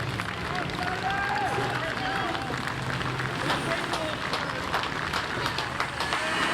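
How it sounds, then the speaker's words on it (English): At the Henley Royal Regatta, stewards near the judges' box give polite, scattered applause as rowing boats pass toward the finish, heard somewhat distant beneath steady commentary, crowd murmur and outdoor noise. "Polite applause from stewards past the judges' box"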